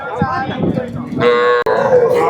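Calves at the Kundadam cattle market in Tiruppur district bellow in a couple of loud, close moos, with a shorter grunting call between them and faint market noise around.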